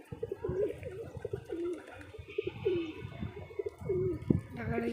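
Loft pigeons, including Chennai-line birds, coo in a repeated rolling rhythm, several calls overlapping nearby at low volume.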